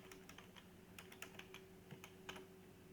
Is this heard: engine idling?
no